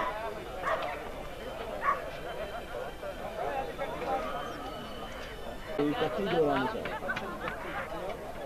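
Coursing dogs at a coursing club race meet bark and yip in short bursts over a busy crowd, with people talking and calling out over the scattered barks.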